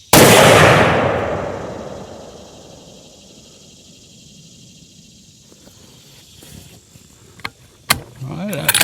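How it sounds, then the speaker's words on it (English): A loud, close rifle shot at a shooting range: a single sharp blast at the start that rings out and slowly decays over a few seconds, followed by quiet and a few faint clicks and handling noises. "I'm going to shoot for that bottom left."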